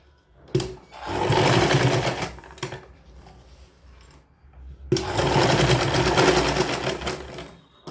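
A sewing machine stitches elastic on a girl's sharara outfit, running in two loud, fast bursts of several seconds separated by a quieter pause.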